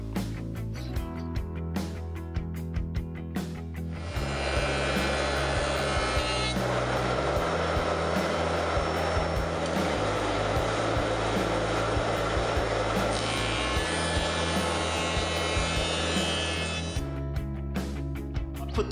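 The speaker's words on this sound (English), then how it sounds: "I've locked everything off and I'm ready to start cutting one flute" A router cutting a flute in wood for a curved dish, with a loud steady motor whine for about twelve seconds that tightens as the bit bites in, and quieter idle hum before and after.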